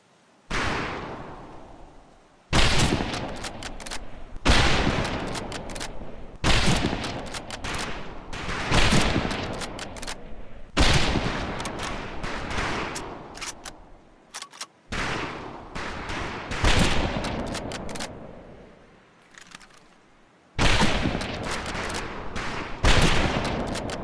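Rifle volleys crack across a boot camp shooting range in Medal of Honor: Pacific Assault, coming as about eight loud, dense bursts of overlapping gunfire separated by short pauses.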